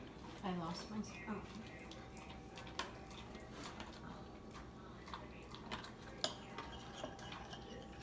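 Crab and mushroom stuffing mixed gently in a bowl with a utensil: soft, scattered clinks and scrapes, a few sharper taps, quiet throughout with a low background hum.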